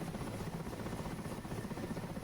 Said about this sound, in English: I don't think that's a Russian helicopter.